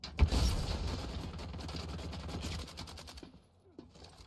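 Rapid automatic gunfire from an AKS-74N rifle in a video game, a dense burst of loud shots that runs for about three seconds before cutting off, leaving a couple of faint clicks.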